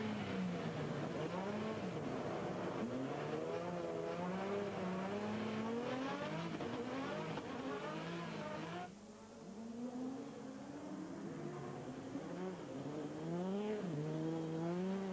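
Onboard Trophée Andros ice-racing car engine at Alpe d'Huez revving up and down through gear changes, loud and continuous, with a brief dip partway through before climbing again.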